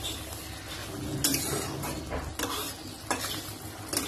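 Chicken kosha being stirred in a pan, a soft continuous sizzle with scraping strokes of the spoon every second or so, close and moderately quiet with no talk.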